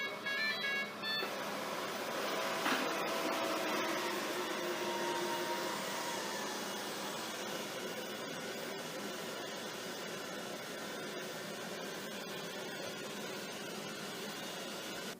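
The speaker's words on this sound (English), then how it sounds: "we've got a clip here where we show the machine move from tile to low pile carpet into deep" A Shark ION Robot 750 robot vacuum runs across tile onto low and deep pile carpet, a steady whirring drone that holds at moderate level throughout, with a few brief beeps and bumps early on.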